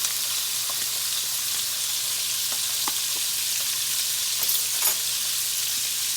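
An Angus steak sizzles in butter in a pan, giving a steady, close hiss with faint pops and a few light utensil taps, and no talking.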